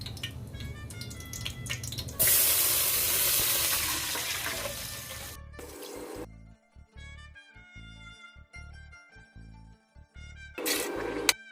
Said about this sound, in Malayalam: അതിലേക്ക് വെള്ളം ഒഴിക്കണം.